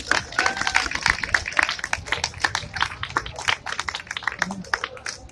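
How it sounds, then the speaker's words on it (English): Crowd at a street protest clapping and cheering together, dense uneven claps with scattered voices mixed in, fairly close throughout. "Give yourself a round of applause."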